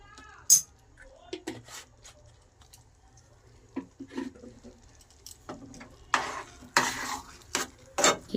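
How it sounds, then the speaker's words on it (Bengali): A spoon stirs ghee into an egg tarka in a pan, with scattered scrapes, taps and metallic clinks. The sounds start sparse and quiet and grow busier and louder toward the end. "ঘিটা দিয়ে নাড়াচাড়া করে মিশিয়ে নিলাম আমি ঘিটা"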